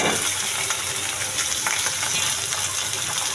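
Red, green and yellow bell peppers with carrots being stirred in a hot pan, a steady broadband sizzle with soft scraping of the utensil throughout, close and fairly loud, no talking.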